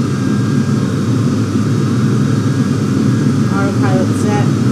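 Boeing 737-800 jet engines at full takeoff throttle in the FSX flight simulator make a loud, steady, broadband roar that holds unchanged throughout.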